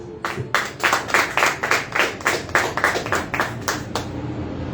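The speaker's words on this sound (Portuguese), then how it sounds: "Aplauda o Senhor." Congregation applauding during a church worship service, a burst of rhythmic group clapping with strong, evenly spaced beats that fades at the end.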